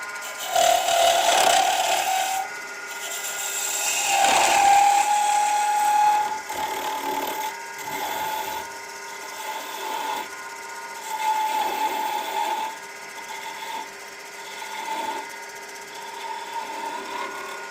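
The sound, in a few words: wood lathe turning a top, cutting the taper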